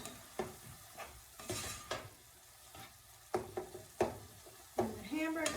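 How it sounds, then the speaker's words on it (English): Ground hamburger meat being chopped and stirred with a utensil as it fries in a pan on a gas stove, soft sizzling under repeated scraping and clacking strokes, fairly quiet and close. "Chopping the hamburger down."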